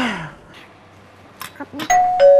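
A doorbell chimes twice in a clear ding-dong, after a faint voice and some brief clatter.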